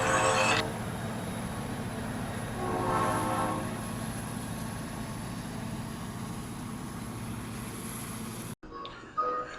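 A train pulls in with a steady rumble and a long, loud sustained horn-like tone that holds for several seconds before cutting off abruptly, followed by a brief quieter sound.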